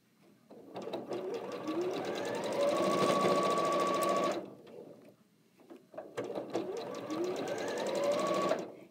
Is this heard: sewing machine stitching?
yes